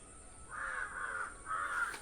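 A crow caws three times outdoors, the harsh calls fairly close and set against a quiet background.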